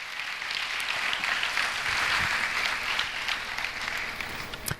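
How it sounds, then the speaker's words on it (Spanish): A church congregation applauds steadily and loudly for several seconds, a dense, even wash of clapping that swells slightly in the middle and holds to the end. "Dale un aplauso a Jesús."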